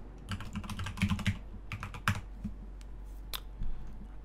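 Fingers tap out a wallet password on a computer keyboard in quick irregular bursts of close, crisp clicks with short pauses between, over a low steady hum.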